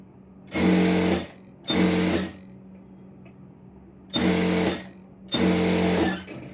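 Sewing machine stitching the lining of an Aari work blouse, running in four loud, steady bursts of about a second each with short quiet pauses between, close and without talk.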